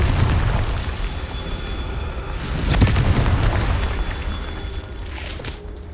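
A Confringo blasting curse explodes in Hogwarts Legacy with deep, rumbling booms, a sharp blast near the middle and a lingering low roar, with no talking.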